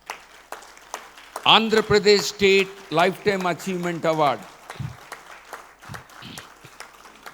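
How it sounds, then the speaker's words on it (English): Scattered clapping from an audience at an award ceremony during a medical conference inauguration in Vijayawada, sparse bursts before and after a loud announcer's voice over a PA. "The list goes on, and I give all of you a thumping claps"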